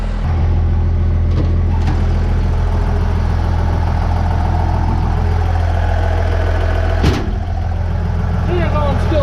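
A C500 truck engine runs on its first drive, a loud steady low rumble with knocking texture that holds throughout, with a brief sharp clunk near the end.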